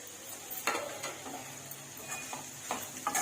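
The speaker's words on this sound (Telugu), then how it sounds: "ఇప్పుడు కొంచెం కరివేపాకు వేసుకోవాలి." Curry leaves drop into a sizzling spicy mutton fry and get stirred, giving a steady soft crackle with several scraping stir strokes and a few brighter pops, close and fairly quiet, no voices.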